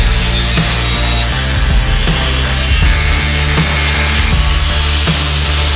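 An angle grinder cuts metal during a Jeep JK Rubicon rebuild, throwing sparks. It gives a loud, continuous, harsh whine with slight rhythmic shifts in pitch as the disc bites, steady and close throughout with no talking.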